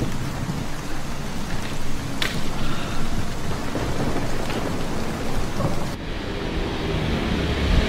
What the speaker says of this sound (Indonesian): Dan lihatlah, masih hujan.